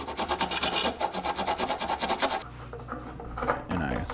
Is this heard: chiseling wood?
yes